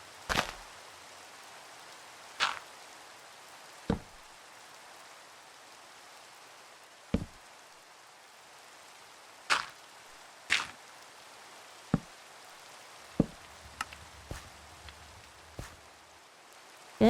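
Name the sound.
rain falling in Minecraft video game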